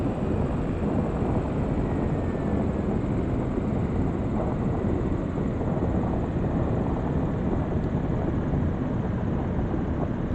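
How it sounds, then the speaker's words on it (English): A Diamond DA40NG piston engine in the X-Plane 12 flight simulator drones steadily and loudly, a continuous broadband roar with no pauses and no talking. "The engine sounds are just really so nice."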